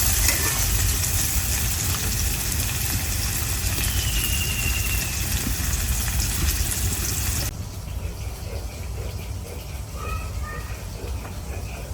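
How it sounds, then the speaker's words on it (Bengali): Pieces of a large ripe rohu fish fry in oil in a pan, giving a dense, steady sizzle that turns softer partway through, with faint voices in the background. "মাছ একদিক দিয়ে ভাজা হয়ে গেছে,"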